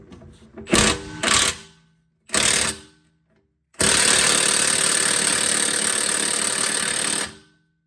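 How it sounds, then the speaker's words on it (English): A big impact wrench with a swivel works on a Ford Taurus control arm: three short loud hammering bursts, then one long sustained rattling burst of about three and a half seconds, close and loud. "So this one I can start with the big impact in a swivel."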